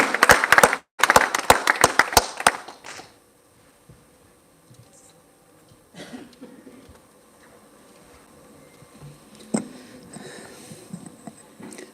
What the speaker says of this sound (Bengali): জোরে একটি হাততালি হয়ে যাক ওনার জন্য